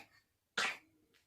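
A child gives a single sharp cough, close and fairly loud, after a moment of quiet in an indoor room.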